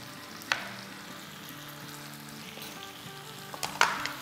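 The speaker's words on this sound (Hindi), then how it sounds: "अब इसे हम जब तक भूनेंगे जब तक कि टमाटर सॉफ्ट ना हो जाए, और फ्लेम हाई रखेंगे" Tomatoes frying over a high flame make a soft, steady sizzle, broken by a couple of sharp clinks and scrapes of stirring, with no talking.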